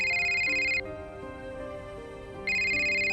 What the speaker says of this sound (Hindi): राजेश का फोन बज पड़ा